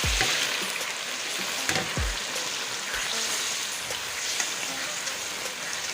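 Semolina sizzles steadily in a pan while being stirred continuously for Pakistani makhandi halwa, a dense crackling hiss throughout with a few soft scraping knocks near the start.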